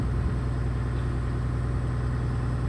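An X200 engine idles while warming up, a steady low rumble with an even, throbbing pulse heard close and unbroken, no voices over it.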